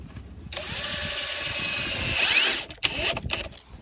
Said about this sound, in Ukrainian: Бачите, дуже чітко заганяється кожен вінт.